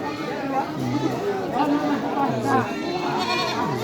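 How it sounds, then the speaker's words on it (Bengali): Goats bleat amid the chatter of a busy village goat market, several drawn-out calls rising over a steady crowd murmur and nearby voices talking. "নিয়ে যাচ্ছে অনেক ছাগল আমরা নিয়ে যাব ছাগলের হাট"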